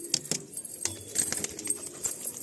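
Madrasi Malwai pigeons moving in a loft, soft wing flutters and faint rustling taps scattered across a short, quiet stretch.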